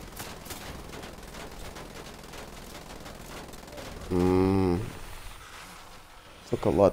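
Gunfire in Wolfenstein The Old Blood: a rapid burst of shots over game background noise, then a brief loud harmonic blast and another short loud burst at the end.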